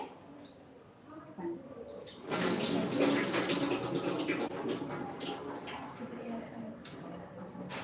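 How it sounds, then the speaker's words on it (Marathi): Sago pearls are rubbed and rinsed by hand in a bowl of water, with soft sloshing and swishing that starts suddenly after a quieter opening and carries on close by, while a voice sounds faintly at times. "हलक्या हाताने आपण हा असा चोळून घ्यायचा आहे तर पहा याच्यामध्ये असं व्हाईट व्हाईट पाणी आलेलं आहे"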